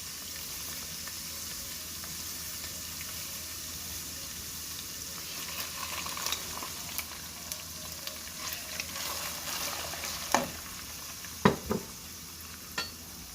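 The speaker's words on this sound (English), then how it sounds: "I'm going to put my fried onion by crushing them." Crushed fried onions stirred into a chicken kofta curry in a frying pan: steady soft sizzle throughout, with occasional scraping and clinks of the spoon growing more frequent toward the end.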